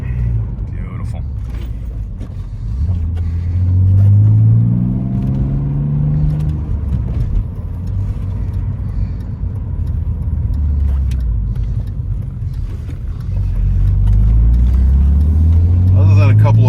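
Engine of a 1999 BMW Z3 M Coupe driving on a road, a steady close rumble that rises and falls with gear changes and acceleration, with people talking over it.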